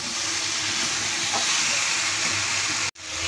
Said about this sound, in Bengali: মশলার সঙ্গে আলু কাঁঠাল ভালোভাবে কষিয়ে নিয়েছি।